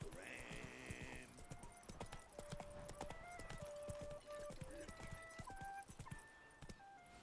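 Roach the horse galloping in The Witcher 3: Wild Hunt, rapid hoofbeats drumming steadily at moderate volume beneath game music, with a brief high cry near the start.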